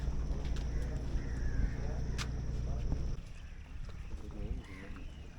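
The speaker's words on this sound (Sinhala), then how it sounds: "ස්ටාෆ් එක ගත්ත බෝට්ටුවක් පිටත් වුණා." A navy staff boat pulling away on the water near Delft Island, its low engine rumble droning steadily and then dropping off partway through, with people talking over it.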